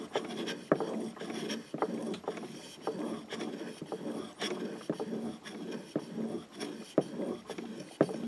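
A Mora knife blade drawn over a sharpening stone, repeated close scraping strokes in an even rhythm with small clicks as the blade is repositioned, slightly rocked on each pass.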